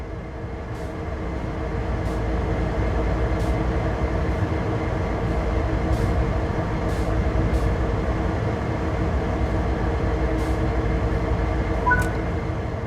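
Train engine in Train Sim World 3 powering up as a small amount of throttle is applied, a steady low rumble and hum that holds level throughout with faint intermittent clicks, no talking.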